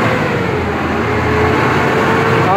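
Diesel generator engine with a DSE 4520 controller, running steadily at close range with a loud, even mechanical drone and no pause.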